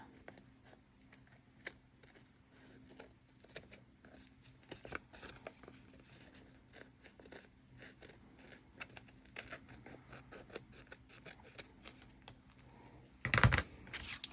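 Scissors trim excess patterned paper off a handmade shaker tag in a series of faint, quiet snips and paper rustles, ending in a brief louder clatter near the close.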